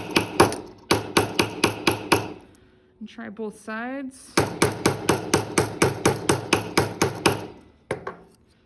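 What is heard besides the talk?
texture hammer striking copper jewelry metal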